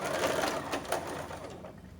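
Sewing machine stitching a blouse, a rapid steady mechanical whir with a quick rhythmic patter, close and moderately loud, easing off toward the end.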